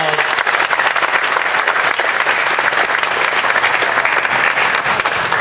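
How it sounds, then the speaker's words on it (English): Sustained, loud applause from a large crowd at an outdoor Hmong festival in Wausau, steady dense clapping throughout with a few voices mixed in. "Let's all give him another round of applause."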